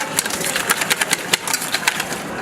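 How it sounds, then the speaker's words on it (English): A wire whisk beating mayonnaise in a bowl for a pasta dish, giving quick rhythmic clicking scrapes against the bowl, fairly close and steady, with no talking. "I'm going to take a whisk, and I'm going to whisk that together."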